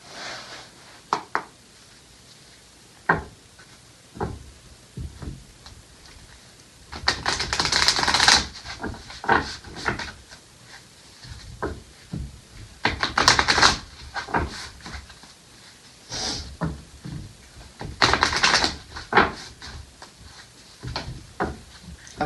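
Tarot advice cards are shuffled by hand in irregular bursts of papery riffling and slapping, close and fairly loud, with short pauses between rounds and scattered taps.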